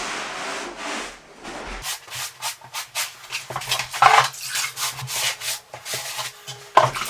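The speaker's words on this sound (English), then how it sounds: "Wipe it down with a damp sponge." A damp sponge rubs and wipes across a plywood surface while prepping for steam shower tile, giving close, uneven scrubbing strokes in repeated passes with no talking.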